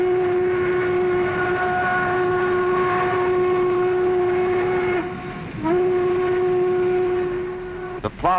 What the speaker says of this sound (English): the total train moving now through the coalfield region along Tug River